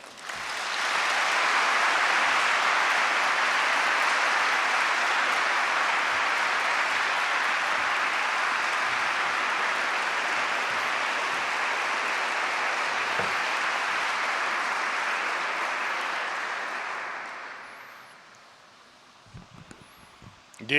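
A large university audience applauds steadily for about seventeen seconds to welcome Ukrainian President Petro Poroshenko at Columbia University, then the clapping fades into quiet room noise.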